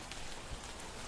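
Steady rain falling outdoors, a dense, even hiss of drops on surfaces, continuous and moderately close, with no voices.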